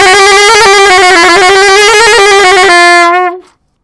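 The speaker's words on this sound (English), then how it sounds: "The sliding trill is equally as effective on the tenor saxophone." A tenor saxophone plays a rapid sliding trill, one loud, close, buzzy sustained tone fluttering quickly for about three seconds before cutting off, played alone.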